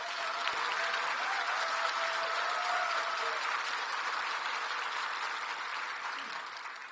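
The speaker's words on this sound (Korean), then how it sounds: "우리 대통령께 커다란 박수 한 번 부탁드리면 어떨까요?" Loud, sustained applause from a large audience welcoming the South Korean president at a Samsung Display investment and cooperation signing ceremony in South Chungcheong Province, dense clapping holding steady for about seven seconds before easing slightly.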